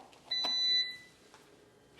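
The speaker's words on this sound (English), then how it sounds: "It gives us a beep, lets us know it's here" A black garlic fermenter machine gives one short high-pitched electronic beep, with a few faint clicks before and after it in a quiet room.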